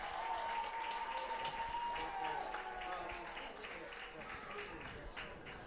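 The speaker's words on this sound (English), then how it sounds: "Everybody, please give a round of applause for senior Pearson Huff." Applause rises from a crowd at a high school football senior night, heard from a distance as steady, faint clapping with cheering mixed in.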